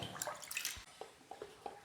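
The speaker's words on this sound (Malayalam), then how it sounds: "അഞ്ചാറ് വെള്ളത്തിൽ കഴുകിയെടുക്കണം നമുക്ക് വൃത്തിക്കൊന്ന് കഴുകിയെടുക്കാം" Raw beef is washed by hand in a bowl of water for a curry. Soft sloshes and drips come in short bursts close by, and there is no talk.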